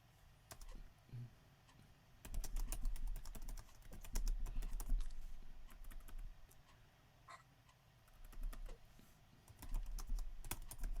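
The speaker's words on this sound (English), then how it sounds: "I'm busy typing away" Keyboard typing during a live online teaching session on learning analytics, rapid clicky keystrokes coming in bursts with short pauses, close and fairly quiet, no talking.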